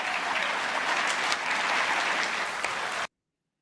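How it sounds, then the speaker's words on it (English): Enthusiastic applause from a political party conference crowd fills the hall, dense and steady for about three seconds before cutting off abruptly. "you can hear that's pretty enthusiastic applause there"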